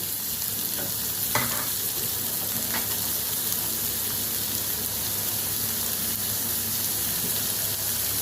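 Steady sizzling of salted onions frying in a pan, continuous and fairly close, with a couple of brief clinks of a utensil near the start.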